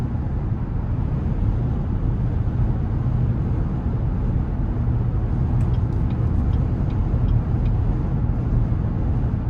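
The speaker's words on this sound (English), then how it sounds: "Wind noise, you can kind of hear just a tad because this is a higher roof vehicle" Steady cabin noise inside a 2017 Cadillac Escalade Platinum with about 105K miles, driving along with a faint hush of wind against the tall roof. A dense, even low rumble holds for the whole stretch, with no talking.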